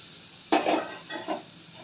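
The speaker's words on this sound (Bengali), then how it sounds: "একটু বেশি করে নাড়তে হবে।" Spoon stirring chingri bata, a shrimp paste, in a pan: a few scraping strokes with soft sizzling, close and distinct, separated by brief quiet gaps.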